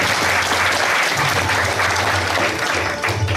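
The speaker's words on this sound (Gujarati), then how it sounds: "જોરદાર તાળી સ્વાગત કરી રહ્યા છે." Loud, sustained applause from a gathered crowd welcoming guests at a Bhagvat religious gathering, steady and dense throughout with a low hum beneath.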